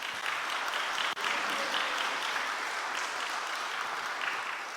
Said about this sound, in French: Je voudrais qu'on puisse féliciter notre équipe de louanges, les applaudir